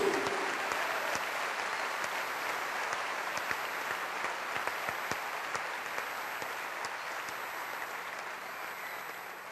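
Continuous applause from a church congregation during a sermon, moderately loud and even, with scattered sharper claps standing out as it slowly eases off.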